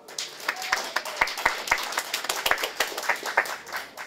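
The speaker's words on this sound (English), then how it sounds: "Let's have a round of applause." Audience applauding for a hip-hop performer at a live music event, a mix of scattered claps and a steady clapping wash lasting several seconds, fairly close and moderately loud.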